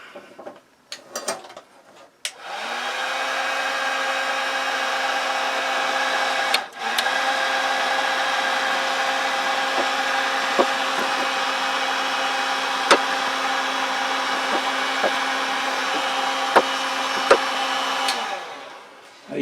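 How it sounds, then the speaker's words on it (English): A heat gun blows steadily for about fifteen seconds to soften and flatten plastic inserts on a smooth heat-resistant surface, a loud even whir with a few small clicks and bumps from handling. "I need to use the heat gun to do it."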